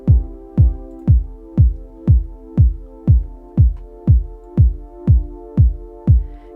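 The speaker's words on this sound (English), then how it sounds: "when I put on the compressor and give the sidechain effect, the kick and the pad will sound like this" Kick drum and synth pad in Logic Pro X with sidechain compression, the pad ducking and swelling back after each of about thirteen steady, evenly spaced kicks, loud and clear with no talk.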